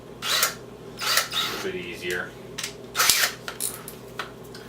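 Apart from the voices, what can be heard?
power drill drilling pilot hole in jockey box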